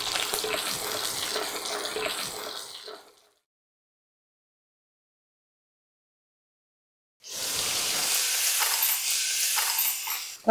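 Curry leaves, chana dal and asafoetida fry in hot oil with a loud, hissing sizzle that cuts off into a few seconds of silence, then returns just as strongly near the end.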